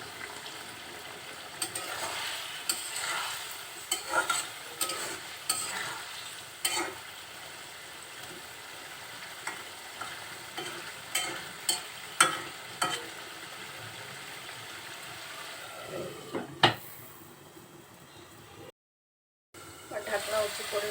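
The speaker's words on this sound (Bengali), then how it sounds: "এখন খুব অল্প সময়ের জন্য একটু ঢেকে রান্না করব" Masala okra cooking covered in a pan, then stirred, with a low simmering sizzle and repeated soft clinks and scrapes of a spoon at uneven intervals, followed by a brief silence near the end.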